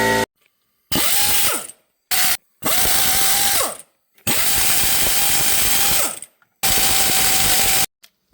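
Repeated bursts from a power ratchet or impact tool removing transmission bolts on a 2013 Mazda 3 during clutch replacement: five loud whirring runs with brief gaps between them, close up, with no talk.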